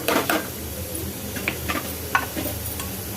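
Tomato kurma with mint and coriander is stirred in a pot. A spoon scrapes and knocks against the metal in irregular strokes over a soft bubbling sizzle, close and moderately quiet.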